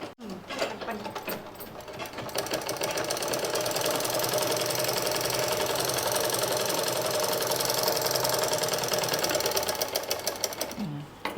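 A sewing machine stitches a narrow band of fabric, running in one steady, fast mechanical whir for about nine seconds, close and continuous, with brief handling noises as it starts and stops.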